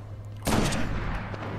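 A single loud gunshot burst from the Destiny video game during a Nightfall strike against Valus Ta'arc, sharp at onset and fading into a short rumbling tail over a low steady hum.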